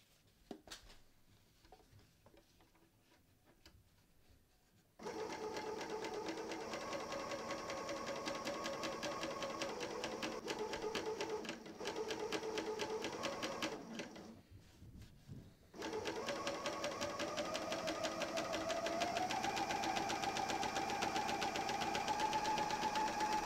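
A Bernina L 460 serger stitches a seam in steady, fast mechanical bursts, starting after a quiet pause, briefly stopping mid-way, then running continuously at a constant pace; no talking.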